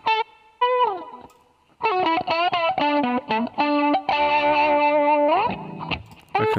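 Funk guitar built in Reason 7 plays choppy rhythmic notes and a sustained bend, run through a mixer, equalizer and echo unit, with a heavily processed, distorted, chorus-like tone, loud and alone.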